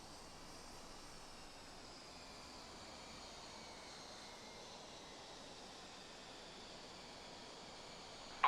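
A Mirage F1 jet engine idles before takeoff in a flight-simulation game, giving a steady, even broadband roar at low level that holds unchanged throughout with no voices over it.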